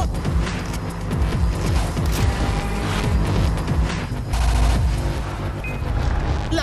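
Rapid gunfire rattles in dense, overlapping bursts at a car in Far Cry 3, loud and continuous, with booming impacts and a roaring engine underneath throughout.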